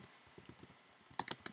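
Quick, light clicks of typing on a computer keyboard while entering text into a website builder, a short irregular burst of close, quiet keystrokes.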